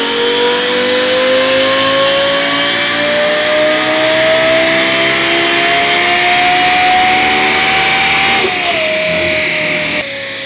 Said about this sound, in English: we went to 5th gear on this last dyno pull